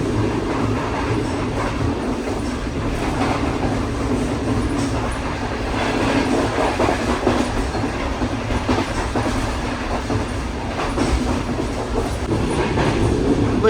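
The Shah Hussain Express rolls steadily along a loop line in Pakistan, heard from inside a coach as a continuous rumble with rhythmic wheel clatter and faint squeal throughout.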